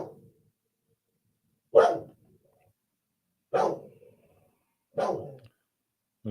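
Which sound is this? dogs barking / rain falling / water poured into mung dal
dogs barking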